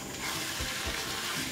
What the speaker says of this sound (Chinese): 锅里不用倒油，直接把沥干水分的排骨倒进去。 这里要用小火煸炒